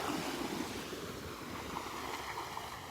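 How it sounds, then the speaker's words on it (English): Small, calm ocean waves rolling onto a Gulf beach at Delnor-Wiggins, a faint continuous wash of surf mixed with light wind noise, no voices. "Here we got a little sequence of waves just rolling in."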